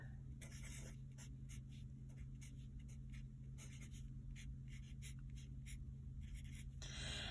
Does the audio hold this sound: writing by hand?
yes